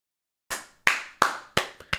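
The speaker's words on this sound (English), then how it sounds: "Clap it up." Six sharp, separate hand claps sound after a brief silence, close and fairly quiet, in an uneven rhythm with the fifth clap softer than the rest.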